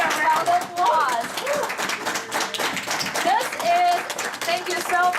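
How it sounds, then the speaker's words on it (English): A room full of people applauds and cheers for a group standing to be recognized, with dense clapping mixed with excited voices and whistles throughout. "Can we give everybody a round of applause?"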